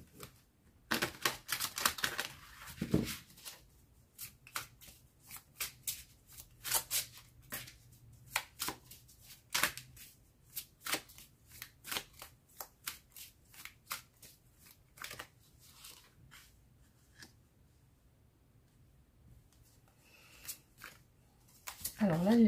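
A tarot deck shuffled by hand for a general reading, close crisp riffling and snapping bursts in irregular runs, thinning out toward a quiet stretch before a voice returns at the end.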